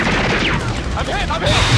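Burst of gunfire from an opponent in a game, loud crashing shots mixed with whooshing effects and voices talking over the action.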